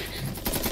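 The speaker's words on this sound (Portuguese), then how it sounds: "A julgar pelo som de tiros de armas de fogo, devem ter trazido um exército." A rapid burst of video game gunfire, dense and loud, with a sharp surge of shots halfway through and no talking.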